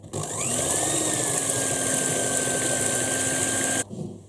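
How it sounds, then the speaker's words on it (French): An electric hand mixer whipping egg whites with a pinch of salt for a praline cake, a steady whirring motor hum that runs for nearly four seconds and then cuts off, with no talking. "je vais battre mes blancs en neige"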